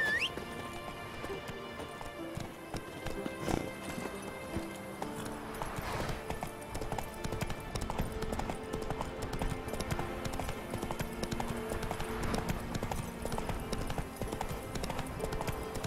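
Roach the horse galloping in The Witcher 3, steady clip-clop hoofbeats running throughout under game music, with occasional whinnies.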